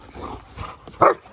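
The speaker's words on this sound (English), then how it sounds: "That is Olivia barking" A dog barks during an ice storm, giving a couple of soft yips and then one sharper, louder bark near the end, close by with no talking.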